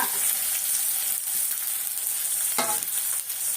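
Steady hissing sizzle of shallots frying in hot oil, with a brief stir or scrape partway through; no voices.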